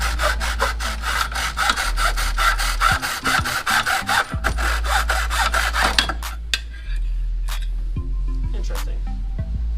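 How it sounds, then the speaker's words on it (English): Steady strokes of a big handsaw cutting through wood, loud and close, with a brief pause near the middle before the sawing resumes and then stops, leaving a low hum. "Better saw. Bigger saw."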